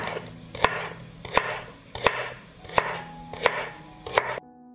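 Green onions and celery being chopped on a board, six sharp, evenly spaced knife strikes close by, each ringing briefly before the sound cuts off.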